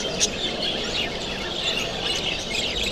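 Caged canaries and budgerigars chirp and tweet in quick, overlapping bursts, a busy chorus of small birds heard close up without any talking.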